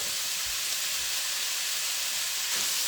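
Chicken sizzling in a heated pan with no oil, a steady close hiss like light rain, with a couple of soft low knocks early on and no talking.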